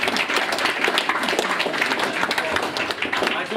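An audience applauding, dense steady clapping from many hands that carries on at full strength for several seconds, with speech also present under it.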